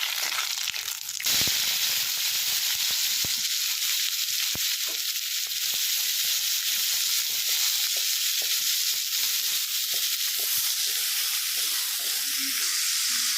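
Steady, loud sizzling of two large chopped onions frying with fennel seeds in hot oil, a continuous crackling hiss with a few soft scraping stirs throughout.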